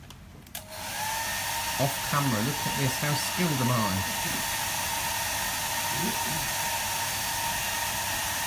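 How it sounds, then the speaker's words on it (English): A handheld hair dryer switched on partway through, a loud steady whooshing hiss that runs continuously to the end, used to speed-dry acrylic paint washes; a person talks briefly over it near the start. "I'm going to put a hairdryer on just for a second."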